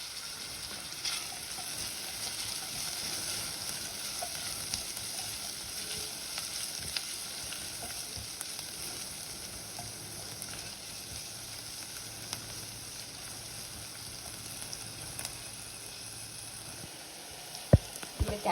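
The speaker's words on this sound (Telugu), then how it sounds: "ఆలోపు ఇటు సైడు క్యారెట్, ఆనియన్ ఫ్రై అవుతున్నాయి" Chopped carrot, onion and capsicum sizzle in a pan for pasta, a steady close-up frying hiss with occasional light stirring clicks and a couple of sharper knocks near the end.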